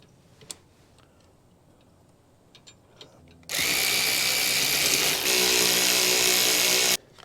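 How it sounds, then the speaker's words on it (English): A power drill or impact driver used while assembling a mini bike: a few quiet clicks and knocks of parts, then a loud, close whirring burst lasting about three and a half seconds before stopping abruptly. "They do come with all the tools you'll need, but power tools make it a little quicker."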